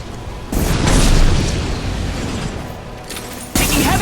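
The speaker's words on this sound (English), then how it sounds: "Firing concussive shot." A concussive shot detonates in Mass Effect Legendary Edition as a loud, close boom with a rumbling tail lasting about three seconds, and a second sharp blast cuts in at the end.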